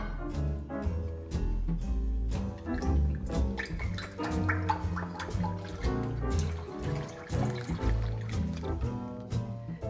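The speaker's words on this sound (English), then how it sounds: "So let's add the milks into the pot, and we're going to heat it slowly on very low heat." Milk and whipping cream pour into a thick pot, giving a loud close glugging and splashing flow that continues steadily with bubbly gurgles throughout.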